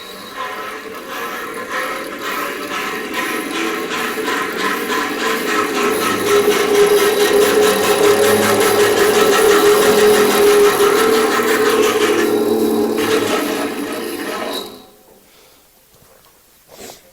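Band saw running steadily after its two phases were swapped, a loud continuous motor drone with blade whir that holds for about fourteen seconds and then cuts off, leaving near silence.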